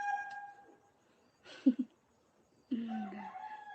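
A chicken crows twice: a faint crow at the start, then after a pause a short clucking burst, then a louder, drawn-out crow near the end, heard nearby in a quiet room.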